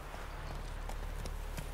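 Horse hooves clip-clopping in the video game The Witcher 3, a quick series of soft hoof strikes over a steady background wash, fairly faint and with no talking.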